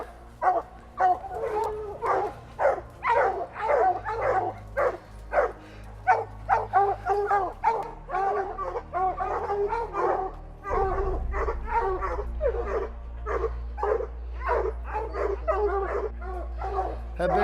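Hunting dogs bay and yip repeatedly at a bear treed in thick New Hampshire woods, a steady chorus of overlapping barks close to the recorder, with a low rumble underneath through the second half.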